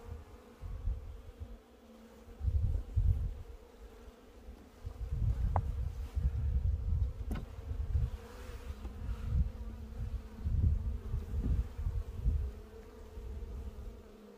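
Honeybees humming around an opened hive during a spring inspection, a continuous low droning swarm that swells and fades as bees fly near, with a few faint clicks of handling.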